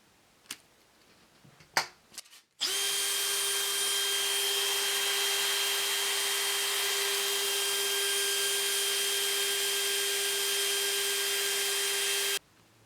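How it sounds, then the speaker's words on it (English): A few light handling knocks, then a cordless drill whirs loudly at a steady high pitch for about ten seconds, spinning a wooden front knob from a Keen Kutter K4C hand plane against sandpaper before cutting off sharply. "for the front knob, I've got it chucked up in my drill, and I'm literally just going to sand it"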